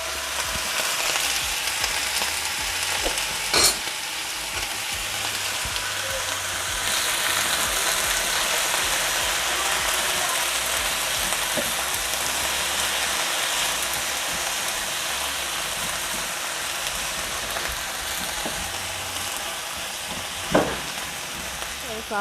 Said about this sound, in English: So I'll let the peppers and onions cook for about 5 minutes to get soft.